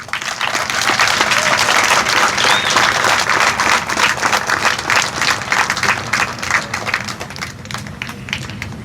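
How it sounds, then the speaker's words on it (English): Audience at a military assumption of command ceremony gives cadets and new leaders a loud, sustained round of applause, many hands clapping together nearby and tapering slightly toward the end. "please give our cadets and new leaders a big round of applause"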